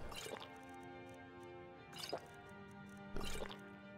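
A character drinking water in Skyrim, with three separate wet squishy gulps spaced a second or so apart over a faint background drone, with no talk.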